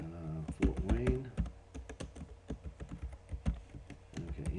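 Typing on a computer keyboard while entering names into a mail-merge document: quick irregular bursts of soft key clicks, close and fairly quiet, with pauses between runs of keystrokes.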